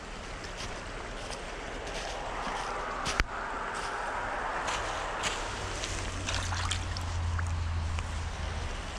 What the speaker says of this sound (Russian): Смотрите, какая водичка чистая-чистая течет. Бежит, вернее.